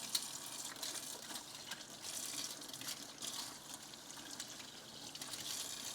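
Tap water runs steadily as dirty forks and dishes are rinsed of stuck-on food in a kitchen sink, a continuous hiss of splashing water with faint clinks, alone without talk.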